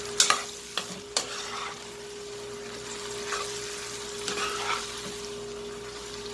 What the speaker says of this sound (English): The vegetable has been sauteing on the fire now for, I want to say, about 10 minutes.